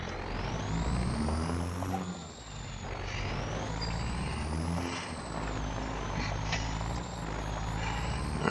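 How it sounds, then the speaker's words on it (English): In Farming Simulator 25, a truck engine drones loud and steady throughout, with a high reversing beep repeating in regular pulses and a brief air-brake hiss partway through, no talking. "let's hop back in the truck"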